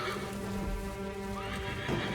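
A horse in the Assassin's Creed III video game neighs loudly and clearly across the whole moment, with hoof clip-clop mixed in and no talk over it.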